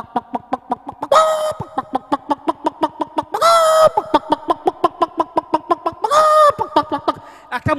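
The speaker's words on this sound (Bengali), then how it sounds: "তো ছড়িয়ে দেওয়ার পরে মুরগিগুলো কিভাবে ডাকছে?" Chickens cluck steadily after soaked chickpeas are scattered for them, with rapid rhythmic clucks throughout and three louder, drawn-out squawks or crow-like calls rising above the flock.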